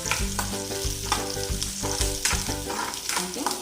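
Onions frying in a pan for semiya egg noodles, a loud continuous sizzle broken by repeated spoon strokes scraping and tossing against the pan.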